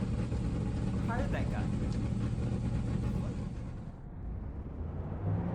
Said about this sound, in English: now that we got the engines fired up